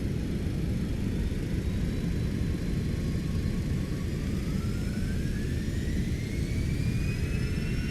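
Airliner jet engines in reverse thrust just after touchdown in the X-Plane 12 flight simulator, a loud steady roar throughout with faint rising whine tones drifting above it.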